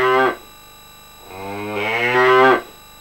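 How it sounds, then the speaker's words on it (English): A cow on a farm moos twice, first a short low call, then a longer drawn-out moo that rises and swells, loud and close with no other sound. "a cow on the farm down the road began mooing."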